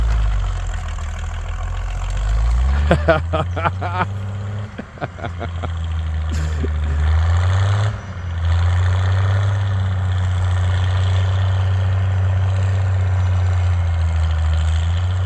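A tractor engine, a 230 pulling a disk through rough ground, drops to a steady low idle. The rumble stays loud and continuous throughout, with a few brief metallic clanks early on.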